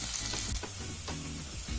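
Onions fry in a pan with oil while being stirred, a steady close sizzle broken by a few soft scraping strokes, with no talking.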